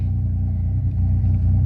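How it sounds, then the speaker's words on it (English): A 2000 Ford Ranger XLT pickup engine runs at a steady idle, heard from inside the cab as a loud, continuous low rumble with no speech. "now, we're going to start the truck"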